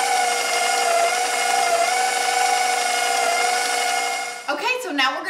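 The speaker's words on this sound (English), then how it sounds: "Turn it on about medium and then be sure to scrape down the sides." A stand mixer beats cookie dough for monster cookies at medium speed with a steady, loud whirring drone. Near the end the tone breaks up and a voice briefly cuts in.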